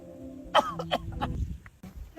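A person coughs a few times in quick, throaty bursts, close and fairly loud, with a rough clearing quality and short pauses between them.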